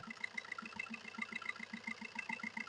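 A 2012 Maruti Swift Dzire petrol engine runs close by with a steady, rapid pulsing hum and even firing beats, fairly quiet with no voices.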